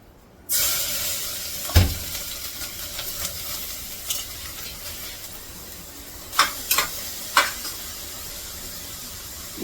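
Grated carrots for carrot halwa sautéed in a pan of ghee give a steady, close sizzle, with a few sharp clinks and scrapes of a spoon against the pan scattered through and no talking.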